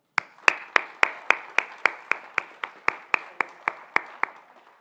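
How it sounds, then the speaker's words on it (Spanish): Welcoming a speaker at a university law faculty lecture session, close, crisp clapping sounds as about seventeen evenly spaced claps at a steady rhythm that fade out at the end. "Recibimos al doctor Curbelo con un fuerte aplauso."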